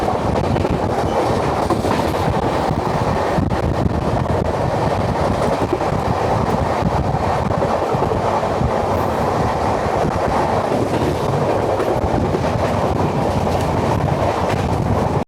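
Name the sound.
passenger train running on rails, Howrah to Puri special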